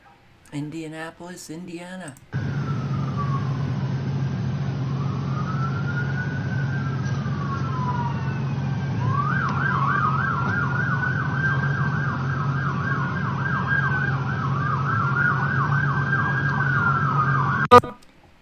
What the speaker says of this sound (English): Get used to the lovely sound of police cars.